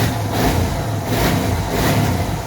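A Suzuki DR650 motorcycle engine, fitted with a K&N air filter, rumbles steadily and revs up and down, loud and close, with no talking.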